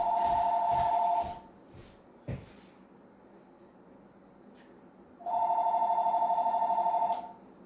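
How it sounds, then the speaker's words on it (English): A telephone rings in two bursts of electronic warbling trill, one at the start and a longer one near the end, with a faint knock between and quiet room tone. "Pardon me just a moment while I shut that phone off."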